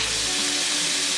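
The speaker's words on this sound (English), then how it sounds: "while our meat is browning" Steady, loud sizzle of ground hamburger meat browning in a hot pan, a constant hiss with no pauses and no talking.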